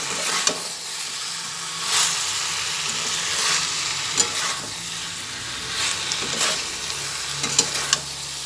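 Young jackfruit korma sizzles steadily in a pan while being sautéed, with periodic scraping bursts from stirring over a constant frying hiss.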